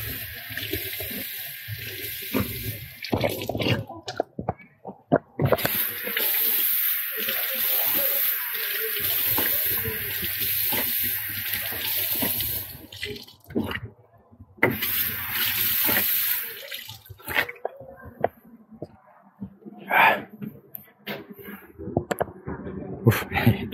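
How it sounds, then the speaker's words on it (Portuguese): Water runs from a public drinking fountain at the Basilica of Aparecida, gushing in several bursts that start and stop, close by against a hushed indoor background. "Olha o bebedouro aqui, ó. Vamos ver. Água potável."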